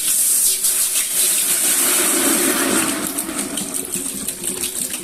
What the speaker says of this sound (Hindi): हमने एक पतीला ले लिया, उसमें हम ये पानी शामिल कर रहे हैं।